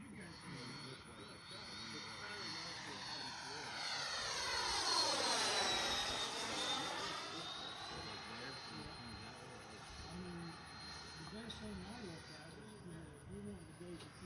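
An FPV F-18 model jet with a 90mm electric ducted fan makes a low pass, its rising then falling whine sweeping through a loud Doppler shift at the peak before fading, with people talking throughout.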